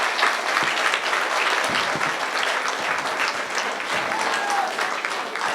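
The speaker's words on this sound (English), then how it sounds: "Give yourself a big round of applause." A crowd of elementary school project participants claps in a sustained round of applause, dense and steady throughout with a few louder individual claps standing out nearby.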